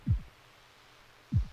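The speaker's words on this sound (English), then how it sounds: "A little heartbeat." Two deep, thudding heartbeat pulses, each a quick double thump, spaced just over a second apart, low and muffled within a music track.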